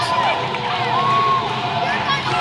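A wrestling crowd in Union, South Carolina cheers and shouts as a wrestler makes his entrance, a steady loud roar with whoops and whistles rising above it.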